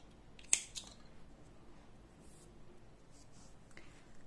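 A pair of scissors snips through crochet yarn at the end of a round crochet button, one crisp close cut followed by a softer second snip, then quiet handling noise.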